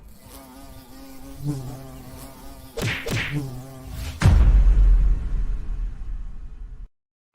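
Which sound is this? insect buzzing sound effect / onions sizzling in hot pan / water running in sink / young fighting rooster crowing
insect buzzing sound effect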